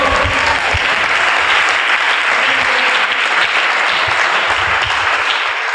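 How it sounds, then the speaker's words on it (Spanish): A church congregation claps in praise during a worship service, loud and dense applause sustained evenly from start to finish. "darle una ofrenda de palmas al Señor con todo su"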